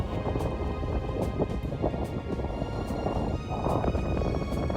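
Strong winter wind roars steadily by the sea, a dense close rumble with a crashing, rain-like hiss from stormy waves beneath it.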